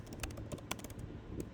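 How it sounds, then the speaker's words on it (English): Close, brisk typing on a computer keyboard while writing an MLA-style paper, with irregular clusters of light plastic key clicks throughout and no voices. "Just press enter or return on your keyboard."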